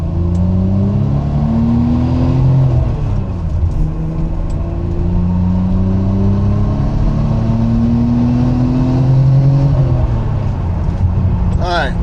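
A Nissan GT-R or Stagea drives past with its engine revving, pitch climbing through two acceleration runs and dropping between shifts, loud and close over steady road and wind noise.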